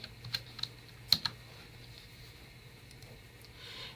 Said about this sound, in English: If you type login and type the email address you used,